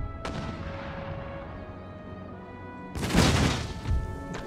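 Mortar and artillery fire in Empire Total War: a booming blast opens, reverberating into a long decaying rumble, then a second heavy burst of explosions with a further thump close behind.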